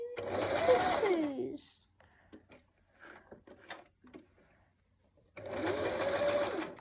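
Hobbycraft sewing machine stitching fabric, running in two loud mechanical bursts at the start and end with a quiet gap between, where a person talks briefly.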